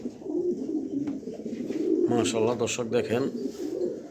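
A pair of quality club pigeons, a breeding pair kept for sale, coo softly and repeatedly at close range while someone talks over them.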